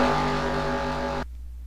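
Race cars roaring steadily along a Utica home track series circuit, a dense engine drone with harmonic whine at close range that cuts off abruptly near the end.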